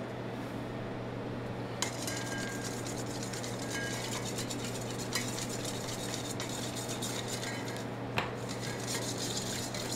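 A whisk or utensil stirs vinaigrette dressing briskly in a bowl for an avocado salad, a continuous rapid scraping and rattling with a few sharper clinks, close and steady throughout.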